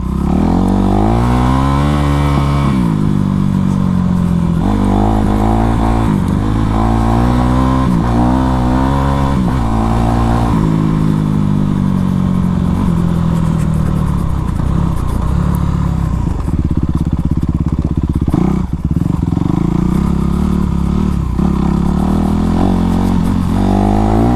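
A Honda CRF450 four-stroke dirt bike engine roars up close, revving up and down repeatedly through gears with a continuous loud, buzzing drone.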